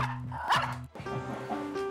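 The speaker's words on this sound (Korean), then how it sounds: "그런데 학원으로 내려오자 또다시 짖는 잭슨." Jackson, a dog, lets out loud, sharp barks indoors at an academy. Several quick woofs come in a rough burst with short pauses between them.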